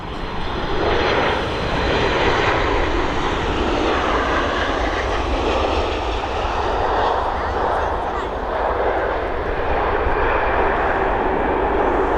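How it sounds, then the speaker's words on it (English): A Boeing 737 MAX touches down at Dublin Airport after a two-hour flight from Madrid, its jet engines making a loud, steady, broadband roar that fills the whole stretch without a break. "this Boeing 737 MAX just about to touch down after just over a 2-hour flight from Madrid"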